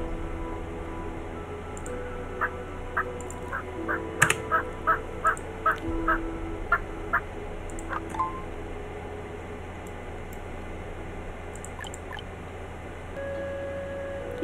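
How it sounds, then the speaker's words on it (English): Turkeys gobble in the video game Settlement Survival, a quick run of about a dozen evenly spaced calls over a steady ambient game background, with no talking. "Animal plague. Turkeys."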